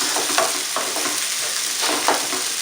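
Garlic and onion sautéing in a pan, a loud close hissing sizzle with a few stirring scrapes spread unevenly through it.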